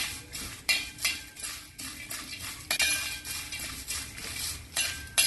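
Utensil stirring salt, black salt and sugar into a poha chivda mixture, giving repeated light metallic clinks and scrapes at close range in an irregular rhythm, with no talking.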